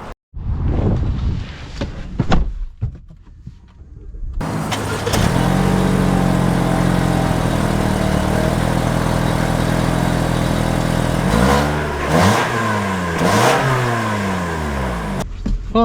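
A 2025 Lexus NX 250 engine starts, settles into a steady idle, then revs up sharply twice near the end, the rising and falling engine note close and fairly loud.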